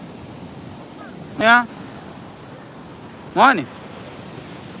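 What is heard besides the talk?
sea waves at the beach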